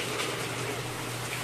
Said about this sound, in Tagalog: Kaya napaka malakas na ang ulan oh.